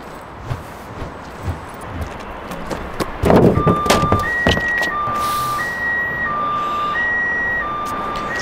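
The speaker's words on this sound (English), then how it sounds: "We all know the sound of an annoying car alarm tearing our eardrums out." A car alarm sounds in a repeating pattern of steady electronic tones that alternate between two pitches. It starts after a burst of street noise and runs over the background traffic.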